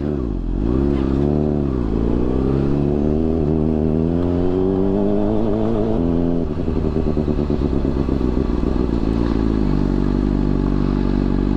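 A Honda CBR600RR motorcycle being ridden, its engine droning loud and close throughout with rising and falling revs as it accelerates and slows, plus some clatter.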